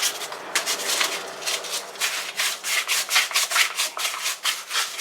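Sandpaper rubbing repeatedly over the varnished finish of a custom M16 replica, a steady series of short, close scratchy strokes with no talk.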